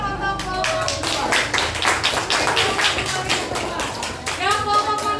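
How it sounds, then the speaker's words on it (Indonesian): Students in an elementary school classroom clap for a group, a dense run of hand claps lasting several seconds, fairly loud and close, with a voice briefly audible. "tepuk tangan untuk kelompok 2"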